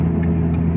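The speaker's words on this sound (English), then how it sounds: "This car is pretty loud." Loud car outside gives a steady low engine drone with a deep hum, holding constant throughout the brief moment with no voices.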